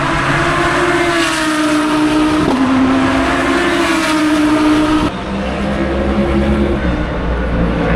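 Race cars roar past in a loud, continuous engine drone with a sustained pitch that shifts midway as one car gives way to the next, set against the steady noise of a crowded racing event in Saudi Arabia.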